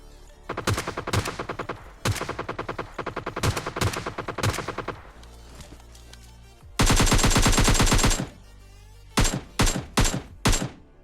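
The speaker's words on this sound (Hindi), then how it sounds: "लेफ्ट की साइड से भी कुछ गन साउंड्स आते हैं" Rapid bursts of automatic gunfire in the PUBG Lite battle royale game, several clipped volleys followed by a long sustained loud burst and a few final sharp shots, with no talking.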